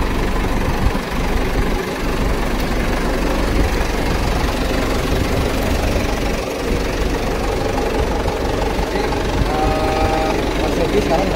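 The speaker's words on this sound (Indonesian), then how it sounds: "mobil tahun ini udah hidup mesinnya, artinya udah siap untuk kita kirim ke kota Ponorogo" A car engine idles steadily ahead of departure, a continuous low rumble filling the whole stretch, close and fairly loud with faint background activity.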